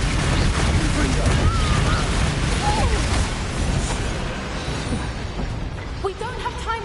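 A Confringo blasting spell goes off in a Harry Potter video game, rumbling explosive bursts over busy combat noise that fade toward the end, with speech present throughout.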